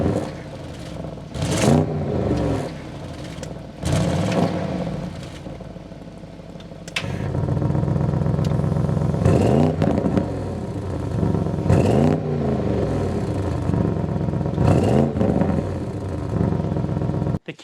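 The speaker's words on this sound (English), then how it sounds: "start it up so you can hear that exhaust note" A 2025 Audi RS7 Performance engine cranks and catches, then revs repeatedly in throaty bursts before settling into a loud, rumbling idle with deep exhaust burble.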